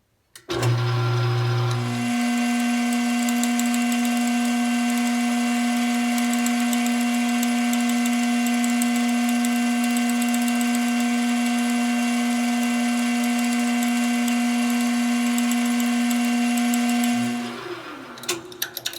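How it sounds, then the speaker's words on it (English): Drill boring a pilot hole in a tobacco pipe, a loud steady whine running almost continuously after a brief spin-up, then winding down near the end. "Okay, now my pilot hole is drilled."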